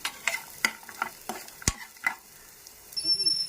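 Grated coconut and ginger frying in a pan, stirred with a spatula that scrapes and taps in short irregular strokes over a faint sizzle, close and alone.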